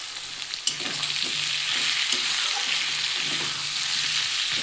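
Ground cumin, chili powder and turmeric frying in a pan for a prawn curry, with a steady, close sizzle and a few light stirring scrapes, and no talk.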